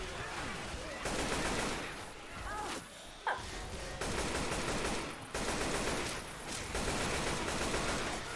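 Bursts of rapid AK rifle fire in Left 4 Dead 2 stop and start in several long volleys, with brief gaps and a sharp crack partway through, no speech.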